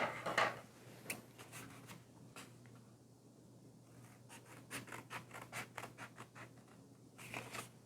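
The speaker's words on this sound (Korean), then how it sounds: "3 개의 실선을 따라서 가위로 오려주도록 합니다" Scissors cut through folded paper along three solid lines for a science craft, giving a run of soft, crisp snips and rustles near and fairly quiet, with no voices.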